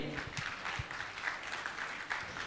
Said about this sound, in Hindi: आप जोरदार ताली बजाकर इनका सम्मान करें